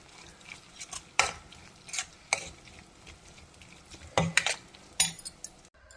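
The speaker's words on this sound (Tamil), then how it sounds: "இதில் கொஞ்சம் கருவேப்பிலை கொத்தமல்லி போட்டு கலந்துக்கோங்க" Broad bean thokku being stirred in a pan with curry leaves and coriander, a spoon scraping and clinking in several short bursts over a soft sizzle, close and fairly quiet with no talk.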